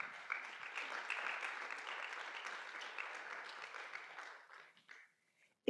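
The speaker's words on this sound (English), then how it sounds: "Let's give a round of applause for them." An audience claps at a public memory event, a lively round of applause that holds steady and then thins out and fades to near silence just before the end.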